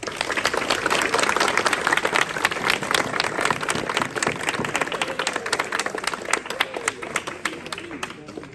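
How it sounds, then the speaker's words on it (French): Students at a school flag ceremony break into dense, fast clapping that starts loud and then slowly thins out, with voices mixed in under the applause. "je vous demande de l'applaudir"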